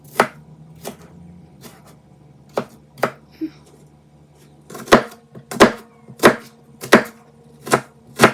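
Knife chopping onion on a cutting board for tinolang manok: sharp, distinct close chops, sparse and irregular at first, then a steadier run of louder strikes, with a faint low hum beneath.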